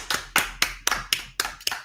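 A small number of hands clap slowly, about seven distinct claps in an even rhythm, each one crisp and close with a brief decay and no talking over them.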